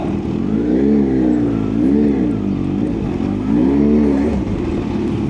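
Kawasaki Z H2 supercharged naked motorcycle with a loud aftermarket exhaust, accelerating hard. A continuous, close engine roar rises and falls in repeated revving surges for about five seconds, with no talking.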